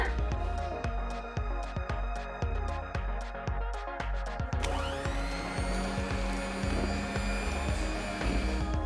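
An electric hand beater whirs steadily as it mixes mashed banana and maida into an eggless cake batter, with rhythmic clicking beats through the first half and then a smoother continuous motor hum.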